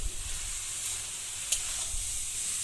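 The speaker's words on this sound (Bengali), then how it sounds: "এখন এটাকে আমি একটু ভালো করে নেড়ে দিচ্ছি" Taro leaves fry in a pan for a kochu shak dish with chickpeas and coconut, giving a close, steady bright sizzle with faint stirring scrapes and one small clack.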